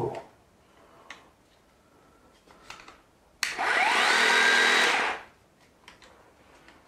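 A power tool's built-in vacuum dust extractor whirs on sharply, holds a loud steady hiss for under two seconds, then winds down, with a few faint clicks and handling taps before and after.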